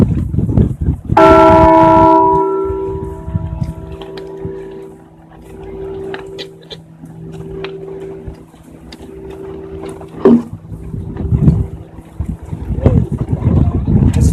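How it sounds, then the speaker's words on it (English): A large fire department bell rings out at a July 4th ceremony, one loud resonant strike whose long humming tone decays over several seconds, followed by fainter knocks and crowd noise. "everybody is invited to ring the bell."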